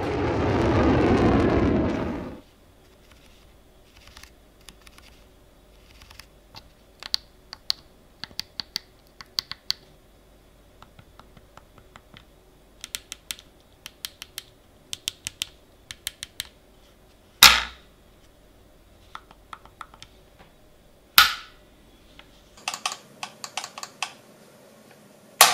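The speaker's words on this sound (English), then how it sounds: "Let's check out how the switches sound and feel." Switches on an NS-37 flight-sim joystick grip are pressed one by one, giving sharp, close clicks in irregular bursts with quiet gaps, after a short opening thump.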